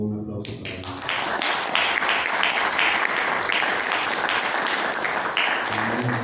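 An audience breaks into steady, sustained applause right after a voice finishes speaking, the clapping filling the room for several seconds.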